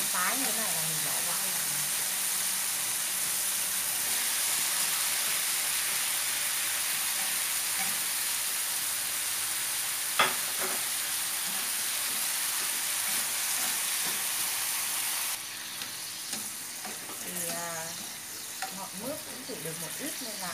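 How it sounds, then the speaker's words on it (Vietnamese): Beef stir-frying over high heat in a pan, with a steady loud sizzle that runs throughout and small clinks of stirring, while someone talks over it. "thịt bò này thì mình xào lửa lớn nhé"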